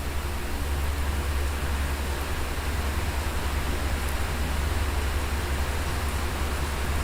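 Heavy rain from Super Typhoon Inday pouring at Subic Bay, a constant broadband hiss over a deep low rumble, steady and unchanging from start to finish with no voices.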